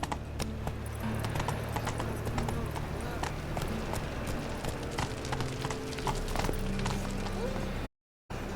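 Roach the horse trots along in The Witcher 3, hooves clip-clopping in a steady rhythm under game music and ambience, with a voice speaking briefly.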